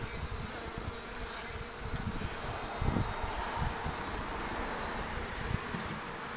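Honey bees buzz steadily around an inspected hive outdoors, a dense continuous drone with individual insects passing close to the microphone, plus light wind noise and no voices.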